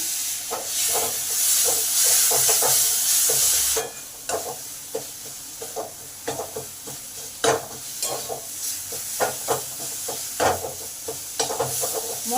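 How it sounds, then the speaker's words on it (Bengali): Spice paste with grated tomato frying in a pan, a loud bright sizzle at first that drops to a softer simmer, with repeated spoon scrapes and clacks as the masala is stirred, no talking. "মশলাটা আমার ভালোভাবে কষা হয়ে গেছে পাঁচ মিনিট ধরে কষা হয়েছে"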